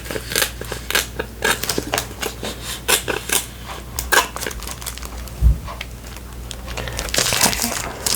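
Scissors snip and slice through plastic wrap sealing an Infinity Deck of cards, producing sharp crinkling and crackling bursts close to the listener, irregular and clustered, with a soft thump midway.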